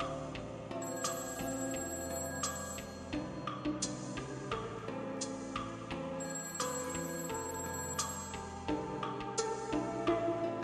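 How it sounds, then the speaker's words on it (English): A telephone rings in the video game A Summer's End, its electronic bell repeating in steady, evenly spaced bursts that go on unanswered, loud and close with no voices over it. "I heard the phone ring again."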